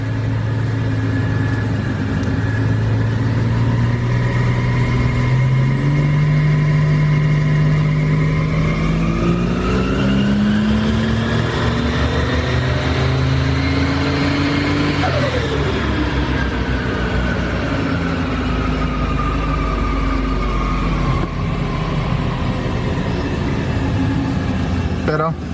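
A Ford Barra engine on a dyno pulls through one long continuous run, its loud steady tone climbing in pitch, peaking, then easing back down, close and unbroken throughout.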